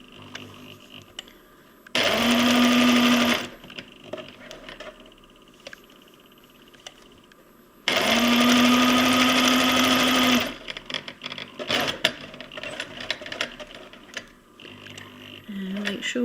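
A sewing machine stitches a cloth pad in two steady, fairly loud whirring bursts, one short and one longer, with quieter talking and handling noise between them.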